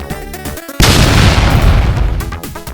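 A loud, close blast in a comedic scene: a sudden booming explosion that hits hard and rumbles on for about two seconds before fading, with brief voices around it.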